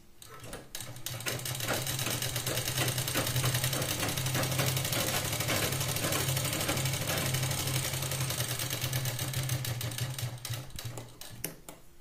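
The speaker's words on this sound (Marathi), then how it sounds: "या पॉइंटला पण आपण डबल शिलाई घेऊया" Sewing machine running continuously while double stitching a blouse, a fast steady mechanical whirr and clatter heard up close for about twelve seconds with no pauses.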